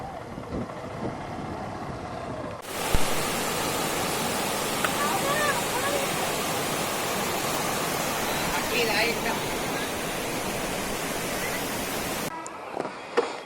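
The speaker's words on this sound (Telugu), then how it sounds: "అయ్యో చాలా చిన్నగా ఉంది ఫాల్స్." A small forest waterfall roars with a steady, dense rush of water heard close up. The sound fills most of the stretch, and quieter outdoor sounds come before and after it.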